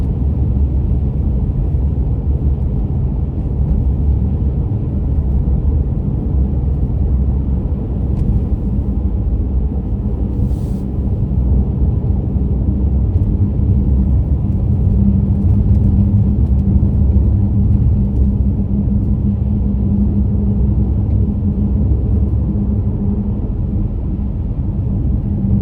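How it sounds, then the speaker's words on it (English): A car drives a winter road after a heavy snowstorm, its tires on snow and ice, giving a steady, loud low rumble and road roar that runs unbroken throughout with no voices. "To the car noise with all the snow on the ground, snow, ice."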